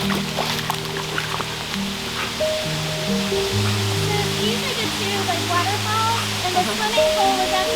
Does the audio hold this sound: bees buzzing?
no